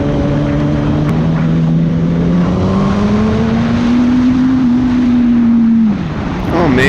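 A vehicle engine is spun up on the throttle in Yerevan, Armenia, producing a loud, close, sustained drone that climbs slowly in pitch, holds, then drops off sharply near the end.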